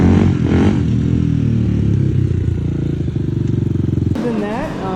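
A 2004 Honda 400EX ATV engine with an aftermarket White Brothers Racing exhaust idles and revs with a throaty, rattling note, steady and loud, then rises sharply near the end.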